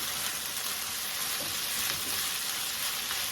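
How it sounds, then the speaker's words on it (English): Potatoes tossed with chorizo fry in a pan with a steady, close hissing sizzle and faint scraping as the mixture is stirred. "toss potatoes with all this chorizo"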